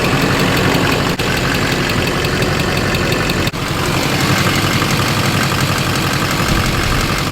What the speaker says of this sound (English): This is the truck before it was tuned at idle.